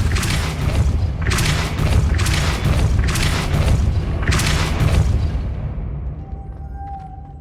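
Repeated booming magical blast effects from the Depulso spell in Hogwarts Legacy, about four or five heavy bursts in a steady rhythm, loud and close, with a final blast fading into a quieter tail.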